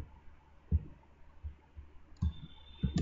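Computer mouse buttons click on a Windows PC, a few soft, close clicks spaced irregularly over quiet background, faint and isolated with no voices.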